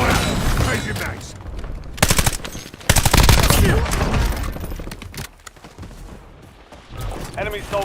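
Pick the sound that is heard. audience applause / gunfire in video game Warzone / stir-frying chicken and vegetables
gunfire in video game Warzone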